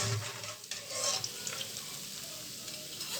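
A ladle of batter for a special Bodi mixture fries in hot oil with a steady, hissing sizzle, broken by occasional light metallic stirring clinks.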